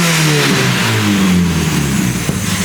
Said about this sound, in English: it actually revved to the rev limiter like it's supposed to with no boost